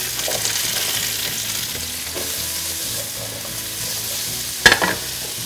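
Vegetables sizzle steadily in hot olive oil for a vegetarian lasagna, a continuous close crackle with soft stirring scrapes and a sharp clatter near the end; no voices.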